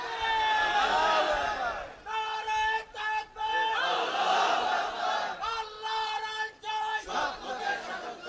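A large crowd at a religious rally in Rangpur chants slogans in loud, rhythmic bursts, voices rising and falling together with short gaps between phrases.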